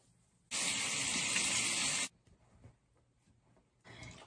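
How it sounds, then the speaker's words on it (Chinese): Mario Badescu rose facial spray mists out in one long, close hiss of about a second and a half. A shorter spritz begins at the end, with quiet handling noise between them. "这个 Mario Badescu 的玫瑰喷雾"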